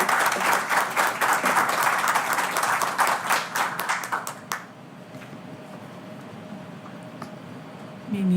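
An audience applauds after an inaugural lecture by a government minister, with dense steady clapping for about four and a half seconds that then thins out and stops, followed by quiet room tone.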